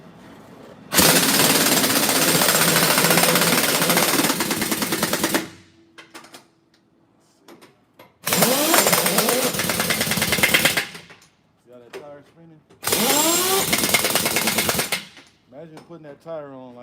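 An impact wrench tightens tire lug nuts in three loud, rattling bursts of several seconds each, with short quiet pauses and faint movement between them.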